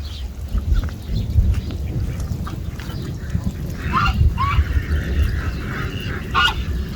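Several ducks quack in short bursts by a flooded, overflowing pond, over a steady outdoor rumble of wind or running water, fairly close by.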